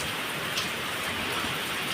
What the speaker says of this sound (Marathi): पाऊस बघा जोरात पाऊस आहे वारं पण आहे